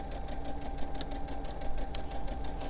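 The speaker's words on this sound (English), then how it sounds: "So I'm just gonna stitch right over this." Sewing machine stitching over pajama fabric in a steady, rapid needle rhythm, a continuous close mechanical whir with regular ticking pulses and no talking.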